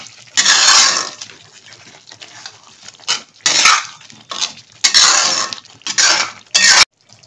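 Green coriander chicken with yogurt, salt and a little sugar being stirred in a pan, heard as repeated loud bursts of scraping and clattering against the metal, separated by short quiet gaps.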